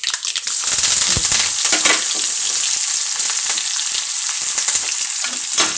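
Crushed garlic, dried chillies, curry leaves and onion frying in oil for sambar rice: a loud, bright crackling sizzle that starts abruptly, with irregular pops and stirring scrapes throughout.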